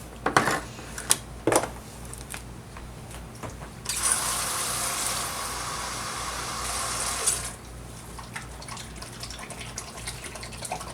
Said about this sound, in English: Alright, here are the pinto beans. I'm going to drain and rinse these as well.